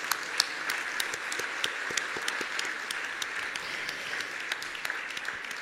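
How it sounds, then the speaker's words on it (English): Steady, dense applause from a conference audience at an international women's conference welcoming dignitaries, a continuous wash of many hands clapping at moderate distance, with no talk. "Please give them a big, warm round of applause."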